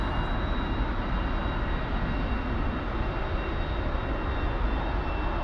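Steady broadband engine roar of an aircraft taxiing in the DCS flight simulator game, a constant loud drone with a faint high whine, continuous throughout with no talk.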